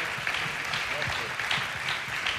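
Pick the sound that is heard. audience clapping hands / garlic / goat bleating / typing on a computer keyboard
audience clapping hands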